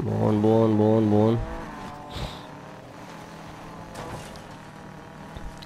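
Subaru race car engine in the video game Need for Speed Payback: a loud, revving harmonic roar for over a second, then a sudden drop to a low, quieter engine rumble.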